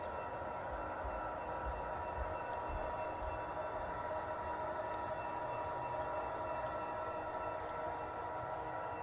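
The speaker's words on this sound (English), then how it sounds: "Actually meeting another loaded coal train." HO scale model loaded coal train running on a large BNSF layout, a continuous even rumble and whine of motors and wheels on track, with faint brief squeals and no speech.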